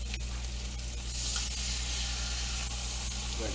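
Food fries in a pan with a close, steady hiss and sizzle that grows a little louder after the first second and holds evenly to the end.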